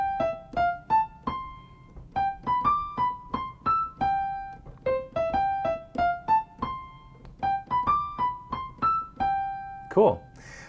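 Calypso jazz piano playing broken triads in a syncopated calypso rhythm, bright single notes bouncing through repeated chord patterns for about ten seconds, close and clear, with a brief voice at the very end.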